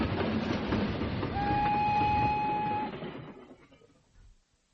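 A train rumbles past close by with a loud rushing roar and clatter, and a brief sustained whistle-like tone rises in the middle before the noise fades away.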